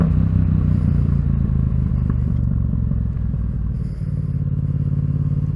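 A Yamaha MT-07 motorcycle cruises along a rough road with a loud, steady engine drone and rumble, wind and road clatter blending in, holding a constant pace with a brief dip near the end.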